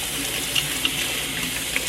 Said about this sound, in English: We're gonna rinse it with cold water